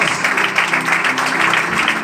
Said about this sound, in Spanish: Dale un fuerte aplauso a la palabra de Dios.